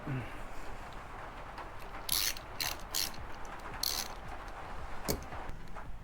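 A hand ratchet snugs 10 mm bolts on a Honda Grom clutch cover, its clicking pawl heard in several short bursts close by over a steady background hiss.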